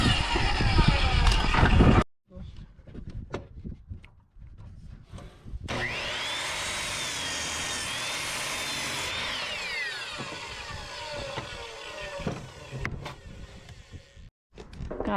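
Wood blocking for fascia boards is cut with a power saw on a shop building under construction. Bursts of sawing and tool whine sound close and loud, separated by pauses, with a sustained cut in the middle.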